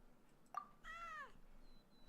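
A kitten meows inside a video game: a short high chirp followed by one clear, drawn-out meow, close and moderately loud over a faint background hum.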